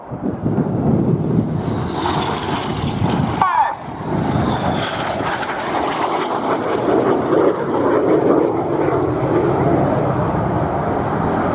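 Red Arrows jets flying a crossing carousel display at RIAT 2016, a loud continuous engine roar with a brief sharp dip partway through, and faint voices beneath.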